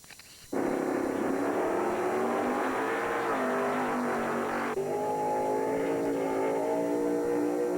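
A drag racing car at U.S. 41 Dragway in Morocco, Indiana, roars to life abruptly and holds a loud, steady high-revving engine note, shifting pitch once partway through, with no voices.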